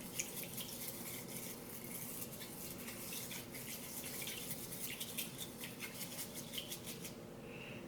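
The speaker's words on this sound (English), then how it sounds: "I'm just gonna put a little bit of water and then whisk it on up." Water poured over matcha powder and whisked, a steady close wet swishing with faint rapid clicks, quiet and unbroken for several seconds, no talking.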